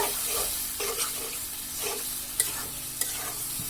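Turnip with chicken skin sautés in a pan, making a continuous close sizzle under slow, regular stirring strokes, with a couple of sharp utensil clicks.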